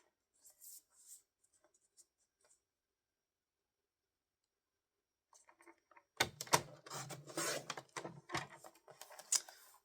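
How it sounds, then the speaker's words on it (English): Strip of designer series paper being cut down to half an inch for a fold card, heard as faint scattered ticks followed by a closer run of crisp cutting scrapes and clicks in a quiet room. "So this is, I'm going to cut this to 1/2 inch."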